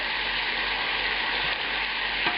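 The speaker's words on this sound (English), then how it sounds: "Now we're going to take this porcini, shallot, wine mixture, the herbs and everything, and add on to this." Veal scallopini sizzles steadily in a pan after a porcini, shallot, herb and white wine mixture is added, a continuous close frying hiss with faint stirring, no voices.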